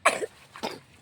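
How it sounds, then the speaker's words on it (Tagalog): A person coughs twice in quick succession, two short harsh bursts close to the microphone with a brief pause between them. "O, yan tuloy, nag-ubo-ubo ka."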